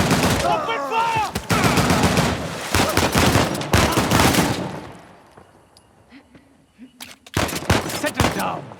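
An ambush firefight in Uncharted: The Lost Legacy, with loud, dense bursts of automatic gunfire and sharp shots close by, a quieter lull in the middle, then renewed volleys while voices shout over it.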